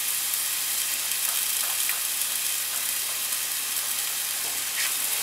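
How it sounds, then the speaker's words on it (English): Flour and Italian seasoning sizzle in a hot pan as they are stirred, a steady bright hiss with a few faint scrapes, close and continuous. "I'm just mixing it around, getting that flour all mixed in, and letting it cook just a minute or two."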